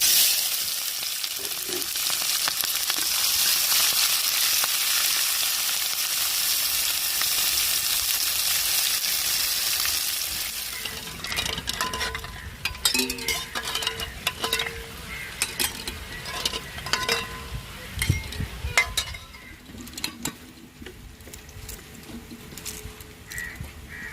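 Onion and green chilli sizzle in hot oil with curry masala for an egg curry, a steady close frying hiss that gives way to clinks and stirring scrapes as the mix is tossed.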